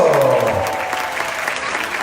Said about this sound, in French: Vous pouvez les applaudir plus fort